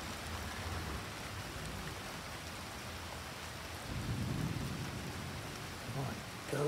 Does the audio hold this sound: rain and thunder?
yes